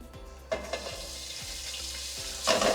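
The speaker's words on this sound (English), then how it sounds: "we're gonna go in with some olive oil, and then we're gonna put the meat in there" Meat sizzling in olive oil in a pan, with a steady crackling hiss throughout, punctuated by louder bursts of spatter and stirring scrapes. No voices.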